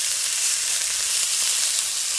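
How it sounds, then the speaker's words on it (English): Steak searing in a hot frying pan gives a loud, continuous close-up sizzle and hiss, steady throughout with no voices. "you can hear that sear"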